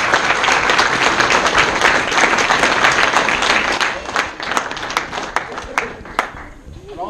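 A dinner audience at a fire district volunteer appreciation event applauds a volunteer, with loud, dense clapping from a crowd that holds steady for several seconds and then thins into scattered claps.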